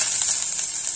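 Garlic sizzling steadily in a tablespoon of hot oil in a pan, a bright continuous hiss heard up close with no voices.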